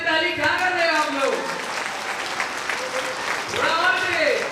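Audience clapping at a Gyanpur skin and hair care seminar, a steady wash of applause running throughout with voices speaking over it at the start and again near the end.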